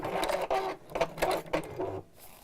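A sewing machine running in short bursts, a fast buzzing whir that starts and stops several times, close and moderately loud with brief pauses between runs.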